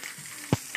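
Onions sautéing in hot oil as aromatics start cooking, a soft steady sizzle with a sharp louder burst near the end as something stirs or drops into the pan.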